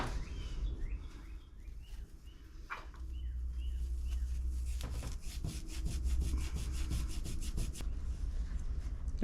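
A Scotch-Brite pad scrubbing a carburetor part clean during a 1979 Z28 Camaro carb rebuild, a continuous close rough rubbing that speeds into fast rhythmic back-and-forth strokes, no voices.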